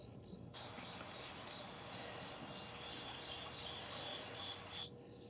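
Crickets chirping in a still night setting where a frog sits, a steady high-pitched trill that starts abruptly and holds for several seconds, with a few brief sharper chirps cutting through, fairly faint and with no talking.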